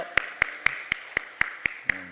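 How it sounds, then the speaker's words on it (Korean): A church congregation claps in unison, eight crisp, evenly spaced claps in a steady beat, fairly faint and set against a quiet room, with a short voice creeping in at the very end. "우리 하나님 앞에 영광의 박수 올려드립시다"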